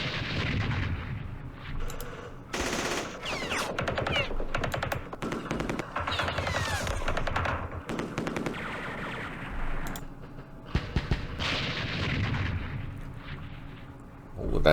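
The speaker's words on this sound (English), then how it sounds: "let's hit them with mortars first." Mortar fire and other battle sounds from the Vietnam War strategy game Campaign Series Vietnam: repeated booming blasts and crackling bursts come in clusters, moderately loud, with a voice talking in between.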